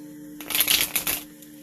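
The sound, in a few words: shuffling cards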